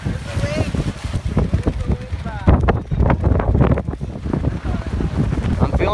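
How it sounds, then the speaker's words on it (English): Strong wind buffets the microphone at a kiteboard competition, a loud continuous roar rising into a gust, with a voice talking over it throughout. "I'm feeling a gust right now."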